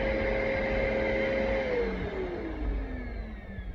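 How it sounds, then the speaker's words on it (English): A vacuum cleaner drones steadily with a whining motor tone that drops in pitch partway through, as if slowing down, with no talking. "Vacuum cleaner."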